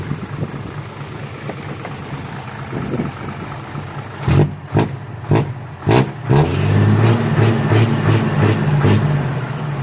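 A Hino truck engine idles, then gives several sharp revs in quick succession before settling into a loud, sustained roar, close by.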